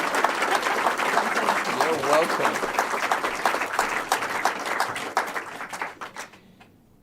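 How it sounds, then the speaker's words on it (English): A crowd gives a round of applause, a dense, steady patter of clapping that carries over a few spoken words and then thins out and fades near the end. "we give her a huge round of applause for being so brave?"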